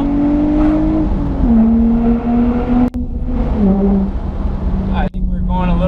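A loud Infiniti G35 engine with a straight-pipe exhaust drones steadily with a deep exhaust note, rising in pitch as it revs and shifts, with brief cuts between gears.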